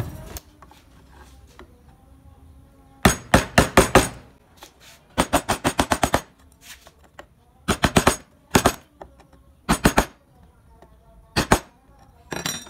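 A gouge chisel struck into wood during carving gives sharp, close tapping blows in rapid clusters of four to six hits, separated by pauses, over a faint background.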